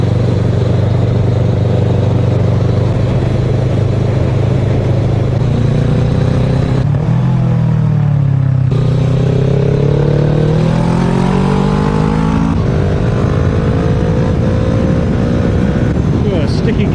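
Motorcycle riding through a small German town, Gemünden am Main, engine note rising and falling through gear changes with a sticky gear shifter, a steady loud drone close by with wind roar throughout.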